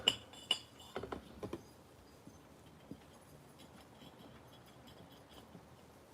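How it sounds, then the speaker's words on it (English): A hard mineral sample scratching and cutting into a glass jar, heard as a few sharp clinks and scrapes near the start, then sparse faint ticks over a quiet background. "You can kind of hear it digging into the glass."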